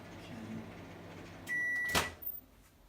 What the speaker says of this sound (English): Okay, and then we're going to add it into the microwave.